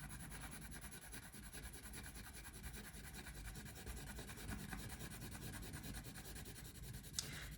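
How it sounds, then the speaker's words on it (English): Colored pencil strokes rub on paper in one direction, a faint continuous scratchy whisper close by, ending with one small tap near the end and no talking. "you see how I am coloring with the color pencil in just one direction"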